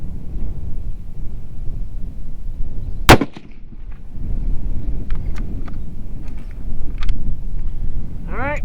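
A long-range rifle shot fired at a target over two miles away: one sharp, loud crack partway through, set against steady outdoor rumble and low background noise, with brief faint chirps later.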